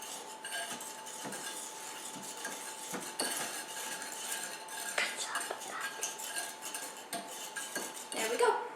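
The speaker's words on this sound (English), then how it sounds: "we're going to whisk this together until it's combined" A cornstarch mixture is whisked in a bowl, giving quick, fairly quiet metallic clinks and scrapes of the whisk against the bowl in an uneven, continuous rhythm, close by with no voices.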